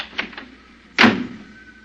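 A car door shuts with a single solid thud in an old radio drama, preceded by faint rattling clicks, heard close and alone without voices.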